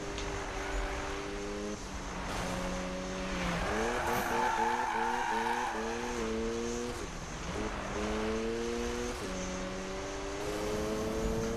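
Cars drifting in tandem in the 2015 Need for Speed video game, with a steady engine drone, rising and falling gear-shift tones, and continuous loud tire squeal and skidding throughout.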